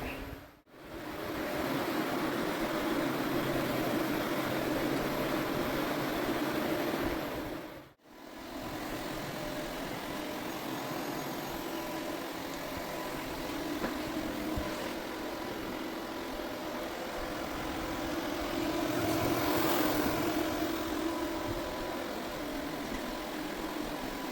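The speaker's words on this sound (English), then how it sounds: "I'm gonna go ahead and get my UV machine started up" A UV floor-curing machine runs on an engineered wood floor during a screen and recoat, giving a steady mid-level mechanical drone with two brief cut-outs near the start and no talk.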